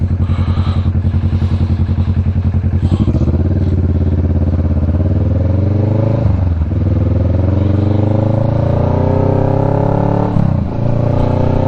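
Kawasaki Vulcan S 650 motorcycle engine running loud and close throughout, with steady revving that rises and falls in pitch as the rider shifts through gears.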